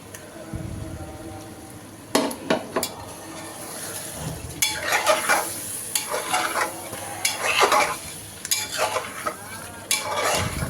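Beef chunks stir-fried in a pan with onions, turmeric, chili powder, coriander powder and ginger-garlic paste: a steady sizzle broken by repeated scraping and clattering stirs of a spatula against the pan, close and fairly loud.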